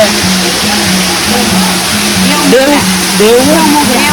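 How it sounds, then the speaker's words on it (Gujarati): Waterfall and stream near Dev Mogra village in Sagbara taluka, Narmada district, roaring as a steady broadband rush that fills the whole clip while someone talks over it. "ત્યાં આગળ આવેલો જોરદાર આહલાદક દ્રશ્ય ધરાવતો ધોધ ઝરણો"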